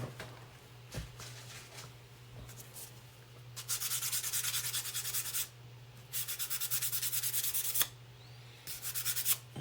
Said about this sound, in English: Let me see if sanding will get those little spots out.